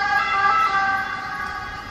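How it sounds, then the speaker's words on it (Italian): An ambulance siren wails steadily as it passes, loud and continuous with a slight fade toward the end, no talking over it. "l'ambulanza che passa"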